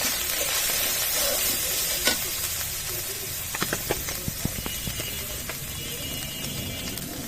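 Ground chili, turmeric and salt frying in a pan for dried-fish bhuna, a steady close hiss with scattered sharper crackles and stirring taps, and no talking.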